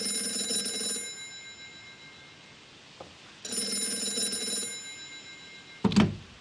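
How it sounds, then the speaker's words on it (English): Telephone ringing in the point-and-click game Gray Matter, two clear electronic ring bursts separated by a pause, followed by a sharp click as the receiver is picked up, indoors and fairly close. "That phone is about to ring."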